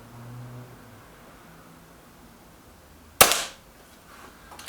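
Single sharp crack of a Hatsan AT44-10 air rifle shot, loud and close, with a brief decaying tail in otherwise quiet surroundings.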